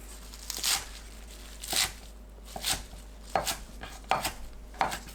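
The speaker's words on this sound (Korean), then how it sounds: "4cm에서 5cm 길이로 썰어주세요." A knife chops water dropwort (minari) into 4 to 5 cm lengths on a board, giving about six sharp, close chops at an uneven pace with quiet gaps between them and no talking.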